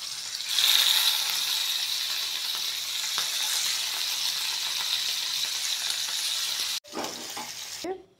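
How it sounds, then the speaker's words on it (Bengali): Hilsa fish slides into hot oil on a heated tawa, setting off a loud, steady hissing sizzle that holds for several seconds before a sharp clatter and a shorter burst of frying. "এই দেখেন, আমি মাছটা তেলে ছেড়ে দিচ্ছি।"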